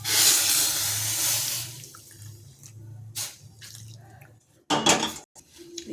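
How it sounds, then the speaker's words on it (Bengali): Hot water poured from a side pot into ghugni cooking on the stove: a loud steady splashing pour for a couple of seconds, then scattered clinks and a short second splash, with no talk. "গরম জল করেছি সাইডে, জলটা দেবো, এই যে গরম জল"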